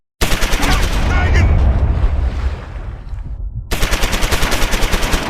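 In the Close Combat 4 Battle of the Bulge game, an anti-tank gun fires and destroys a Panzer IV tank. Loud, rapid gunfire gives way to a rumbling blast, then another sustained burst of rapid shots follows.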